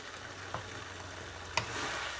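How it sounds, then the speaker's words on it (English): Kung Pao sauce for zucchini noodles bubbles and sizzles in a hot pan, a steady soft frying hiss with two brief clicks or pops, no voices. "my pan is hot enough that it's already starting to boil around the edges"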